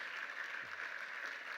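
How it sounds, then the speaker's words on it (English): Faint, steady applause from an audience at a high-level opening session of a conference, a continuous soft hiss of many hands clapping with no break. "Come on, another round of applause, ladies and gentlemen."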